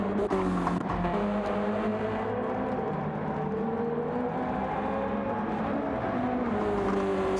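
Race cars in a racing video game run at the Barcelona track: a steady, loud, layered engine whine rises and falls as the cars shift gears through a chicane. Tire hiss sits under it continuously throughout.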